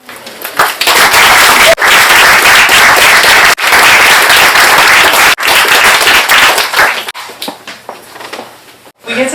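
A seated audience breaks into sustained, dense applause to welcome speakers at a literary reading, loud and steady for several seconds before thinning into scattered claps.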